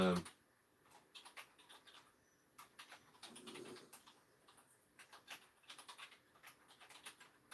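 Quiet keyboard typing with scattered, irregular key clicks, close by, with some soft background chirping.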